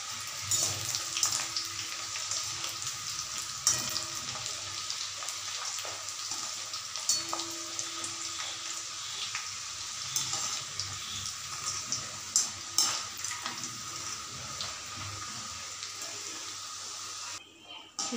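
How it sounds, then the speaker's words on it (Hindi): Nimki dough deep frying in oil over a low-medium gas flame gives a faint, steady sizzle and bubbling with occasional clinks and stirring sounds, and no one speaks. "अब इसे हमें लो टू मीडियम गैस फ्लेम पर ही"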